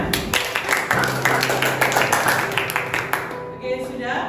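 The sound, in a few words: students clapping in classroom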